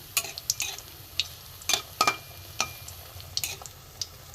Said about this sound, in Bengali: ভালো করে উল্টে পাল্টে লাল করে ভেজে নেব।